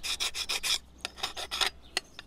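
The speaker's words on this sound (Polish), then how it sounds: "Troszkę sobie to zdrapiemy." A tool scrapes carbon buildup off the blade of a petrol lawn mower in a series of about eight harsh, raspy strokes, loud and close, with brief pauses between strokes.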